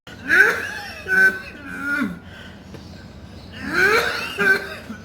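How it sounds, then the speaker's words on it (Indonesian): A person coughs in several harsh, throaty bursts while being touched behind the ear during a traditional cough remedy session, with a pause in the middle before another cluster of coughs. "Pegang di belakang telinga langsung batuk."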